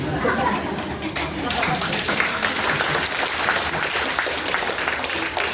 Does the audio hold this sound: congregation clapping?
yes